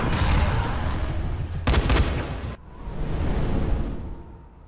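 Gunfire in the zombie game Dying Light on PS4: loud, dense bursts of shots that cut off abruptly, then a rushing, fading rumble.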